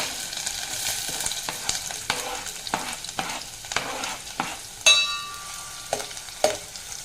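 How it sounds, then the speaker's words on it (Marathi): Onion sautés in hot oil in a pan, a soft continuous sizzle with frequent light scrapes and taps of a spatula, one sharper clatter near the end, close by and without any voice. "कांदा चांगला परतून घ्यायचा"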